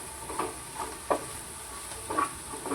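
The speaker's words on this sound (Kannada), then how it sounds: "ಇದನ್ನು ಫ್ರೈ ಮಾಡೋಣ." Chopped onion and tomato frying in a pan for a capsicum dish, a soft steady sizzle with a few light scrapes of stirring, close and quiet.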